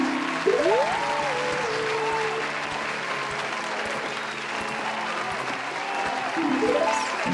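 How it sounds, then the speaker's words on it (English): A sustained burst of applause sound effect fills the clip, dense and steady clapping from many hands, with some faint voices and tonal sounds mixed underneath. "stop the applause"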